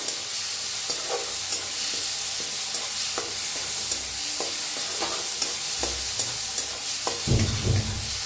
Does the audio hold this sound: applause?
no